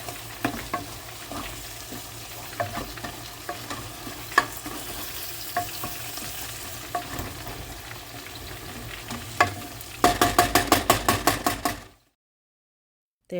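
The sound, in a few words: jalapeno and lamb frying in a pot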